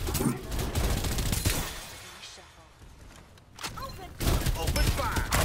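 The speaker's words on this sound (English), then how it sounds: "see some people shooting over there" Gunfire from other players in the battle royale shooter Farlight 84 crackles in dense bursts at the start and end, easing to a quieter lull in between, with some talk mixed in.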